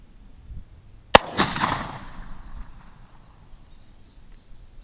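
A single sharp report from a Traditions Hawken Woodsman .50 caliber muzzleloader rifle, fired once on a range, with a brief ringing decay and rumble trailing off into quiet outdoor background.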